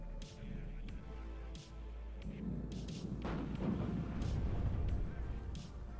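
Abrams and Leopard 105 tank cannons fire in a video game battle, heard as dull booms and rumbling impacts within steady, dense combat noise, with a voice talking over it.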